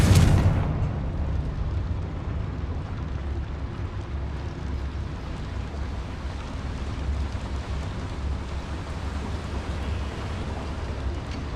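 An explosive Confringo fire spell detonates in the video game Hogwarts Legacy, a loud booming burst at the start that settles into a long, dense rumbling roar with crackle, with no talking.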